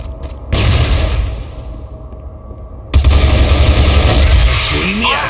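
A flashbang grenade tossed in the shooter game CF West gives two sharp loud bursts, each followed by a sustained roaring wash of noise, with a faint whine near the end.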